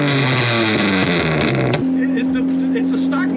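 A tuned Mazda MX5 Miata with a stock motor, driven hard: loud harmonic engine note with revs rising and dropping, then a shift to a steady drone, with voices in the cabin.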